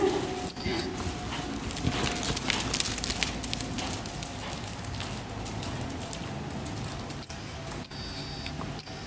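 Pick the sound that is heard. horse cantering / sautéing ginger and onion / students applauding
horse cantering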